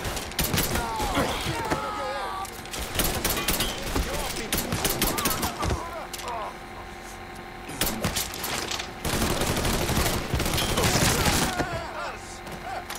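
Gunfire in the video game Mafia III, rapid bursts of automatic shots and heavy thumps in loud clusters separated by brief lulls, with someone talking excitedly over the shooting.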